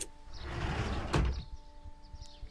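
A door slides open in a Sherlock Holmes video game, a rising whoosh with a heavy thud near the middle, then a quieter tail over faint background tones.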